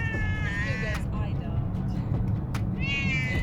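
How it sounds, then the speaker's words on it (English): Angry cat meowing and yowling in drawn-out wails at a campsite on the Appalachian Trail, rising above a steady rumbling background, with two long cries at the start and end. "Just like angry cat in the background."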